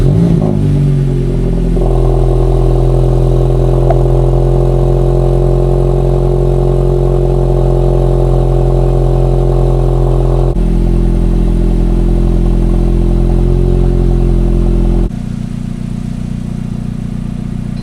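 Exhaust drone from a VW GTI with an Integrated Engineering sport muffler, a loud, deep, steady rumble that holds for a long stretch, then shifts in tone twice as the engine settles lower.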